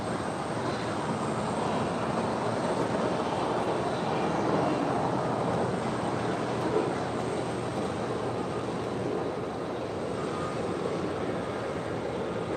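An airliner landing on runway 25 Right at LAX gives a steady, loud broadband roar of jet engines and rushing air that holds at an even level for about twelve seconds, with no voices.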